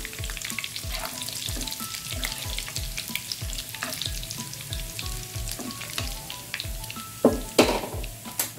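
Red chillies sizzle and crackle in hot oil with cumin for a dal tempering, a steady close frying hiss with occasional sharper pops and spits toward the end.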